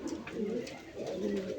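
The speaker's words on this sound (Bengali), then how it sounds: "এখানে এক জোড়া কবুতর আছে" A pair of Red Checker Racer pigeons coo in deep, throaty, repeated rolling calls, close and clear, with one bird's coo following the other's without pause.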